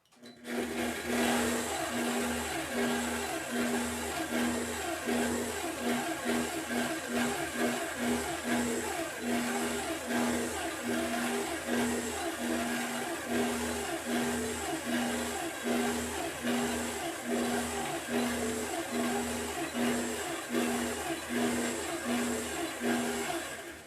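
A longarm quilting machine stitches a custom quilt with a steady, continuous motorized hum and a fast, even needle pulse running throughout, loud and close with no talking.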